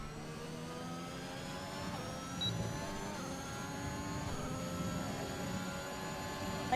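An F1 car in the F1 2021 video game rounding the final corner: a continuous engine whine with rising and falling harmonic lines as revs shift, steady and moderately faint throughout.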